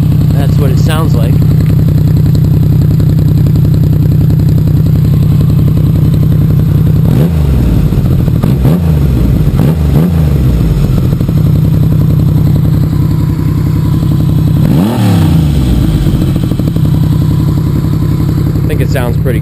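A Yamaha XS triple motorcycle engine idles loudly and steadily close by, with several sharp revving blips in the middle and near the end.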